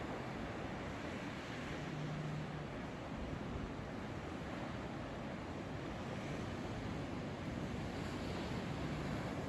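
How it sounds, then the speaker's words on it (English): Ocean waves splash and roar steadily against the rocky shoreline of the Wild Pacific Trail near a lighthouse in Pacific Rim National Park Reserve, with constant wind buffeting the microphone and no voices. "You can see those waves splashing."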